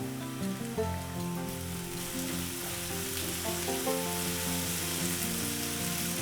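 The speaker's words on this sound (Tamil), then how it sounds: "இதில் 1 ஸ்பூன் அளவுக்கு இஞ்சி பூண்டு பேஸ்ட் போட்டுக்கலாம்." Steady sizzling of ginger garlic paste frying in a hot pan, continuous crackle and hiss close by with no talking.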